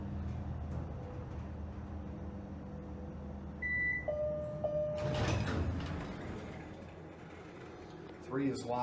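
An Otis Lexan elevator's door slides shut near the door close button, a brief beep and chime tone followed by a rumbling, rattling closing motion that lands with a soft thud.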